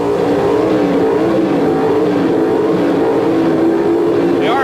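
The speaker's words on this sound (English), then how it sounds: "The RPM climbing at the starting line" Pro stock drag racing car, Chevrolet versus Mopar, revving its engine at the starting line; a loud, continuous engine roar with a steady rising drone throughout, no talk over it.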